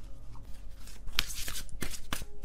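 Tarot cards being shuffled by hand, a few crisp riffling and tapping bursts spaced across a couple of seconds, close and moderately loud, with no speech.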